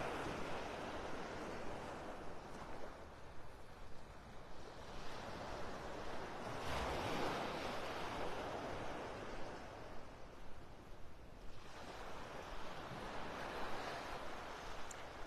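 Ocean surf washes onto a beach in North Naples, Florida, a quiet, continuous rush of breaking waves swelling and fading in slow surges, mixed with light wind noise and no talk.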